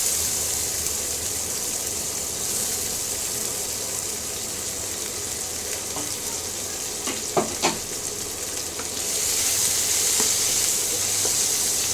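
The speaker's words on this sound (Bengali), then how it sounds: "রসুনটা অল্প ভাজা ভাজা হবে" Chopped garlic fries in hot oil in a pan, a steady close sizzle with a few sharp spatula scrapes midway and the hiss swelling louder toward the end.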